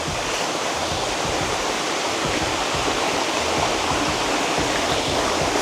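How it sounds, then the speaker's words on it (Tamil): A waterfall along the Netravati Peak trek in Karnataka roars with a steady, dense rush of falling water, loud and close, unbroken throughout with no voices. "இங்கே ஒரு அருமையான ஃபால்ஸ் இருக்குது."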